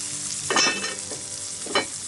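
Sausage fries in a cast iron skillet at a camp breakfast, giving a steady sizzle broken by two brief scraping stirs.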